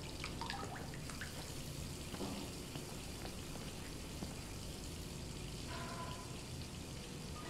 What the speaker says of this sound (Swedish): Vi ska sätta på vattnet igen!